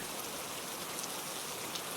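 Nighttime rain pours down in a steady, even patter and hiss, dense and unbroken for the whole stretch, with faint droplet ticks and no voices.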